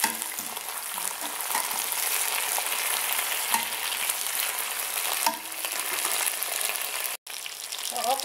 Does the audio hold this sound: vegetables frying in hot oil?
yes